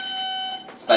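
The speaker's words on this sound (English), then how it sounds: "That is the doorbell" A steady electronic doorbell buzz holds for about half a second, then a voice starts talking close by.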